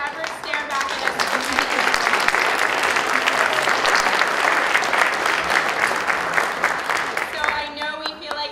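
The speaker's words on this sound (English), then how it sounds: "let us applaud you for creating the version of Stewart Aaron who will forever stare back at us" An audience applauds a portrait artist at a lawyers' association portrait unveiling in New York: full, sustained clapping from a large crowd filling the room, with voices mixed in and the applause easing near the end.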